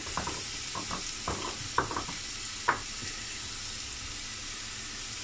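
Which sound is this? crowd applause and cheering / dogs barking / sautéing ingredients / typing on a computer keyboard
sautéing ingredients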